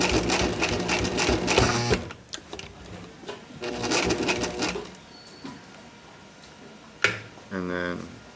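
A sewing machine runs a wide zigzag stitch on a sailboat lazy bag, loud bursts of rapid needle chatter separated by pauses, with clicks and fabric handling between runs.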